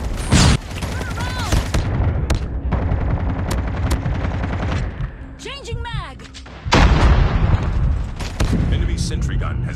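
Automatic fire from a sentry gun in Call of Duty Mobile, long rattling bursts of close, loud shots broken by brief pauses, with game voice announcements and whistling effects in between.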